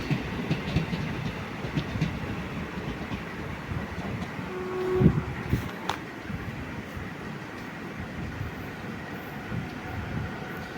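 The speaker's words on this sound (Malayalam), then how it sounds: "ഇത് നമ്മുടെ ഗുഡ്സാണ്, സ്പോർട്ടിങ്ങും കാര്യങ്ങളൊന്നുമല്ല. Goods train. പെട്രോൾ കൊണ്ടുപോകും." A goods train hauling petrol rolls steadily through Mayyanad, a small village station in Kerala, its wagons rumbling and rattling in a continuous, close, even roar with faint clicks, and no voices over it.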